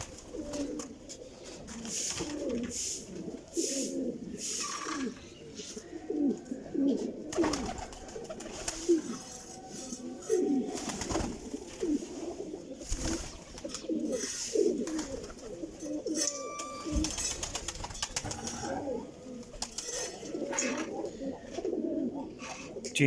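Cheena pigeons in a loft coo in soft repeated throaty bursts, several birds overlapping at close range, with occasional wing flutters and light background rustle.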